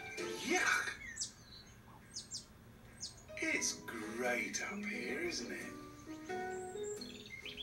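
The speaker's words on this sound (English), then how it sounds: "Lesson number one. Birds." Small birds chirp and tweet in short, bright bursts throughout an animal lesson on a children's video, with a voice talking over parts of it and the calls staying fairly close and clear.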